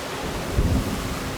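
A storm in Jurassic World Evolution 2 gives a brief low thunder rumble that swells midway through a constant roar of wind and rain, with no speech.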